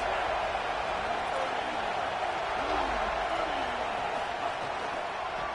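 Steady, dense crowd roar from a packed stadium in a college football video game with South Carolina, holding at an even level throughout, with faint commentary-like voices drifting underneath.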